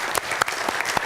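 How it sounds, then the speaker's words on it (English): A conference audience applauds a keynote speaker at a health privacy summit, a brief burst of dense, close clapping from many hands that fills the room evenly. "Let's give her a round of applause."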